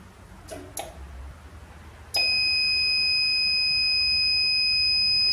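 A loud, steady electronic buzz from a heat press timer starts abruptly and holds unbroken, preceded by a few faint taps and clicks.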